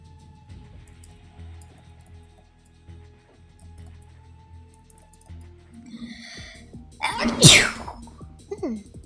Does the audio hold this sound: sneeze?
yes